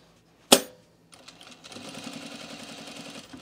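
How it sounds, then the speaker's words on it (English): After a sharp clack, a domestic sewing machine top-stitches a pair of pants, building into a fast, even needle rattle that runs on steadily and close by. "I'm kind of top stitching this in a weird spot too"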